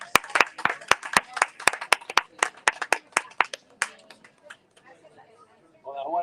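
A short round of clapping for the author at a book festival booth, with about a dozen distinct sharp claps from a small nearby audience that thin out and fade, before a voice begins speaking.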